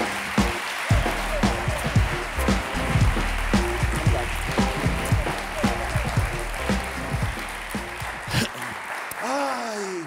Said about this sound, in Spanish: un fuerte aplauso para Ana Polo